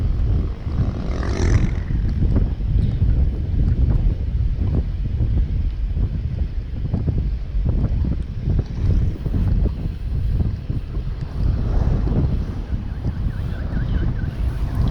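Wind roars steadily into the microphone during a bicycle ride from Nairobi to Moshi, a loud continuous buffeting rumble that never lets up.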